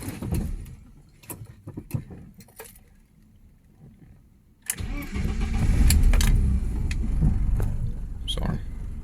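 A BMW E30 engine cranks and fires after a few seconds of faint clicks, catching with a sudden rough burst and settling into a loud, lumpy idle close by.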